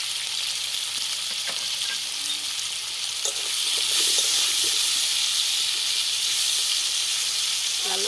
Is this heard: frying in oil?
yes